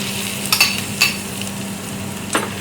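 Caramelising mixture frying in a pan for restaurant-style keema rice, a steady sizzle with a few spoon scrapes and clinks as it is stirred, close and alone.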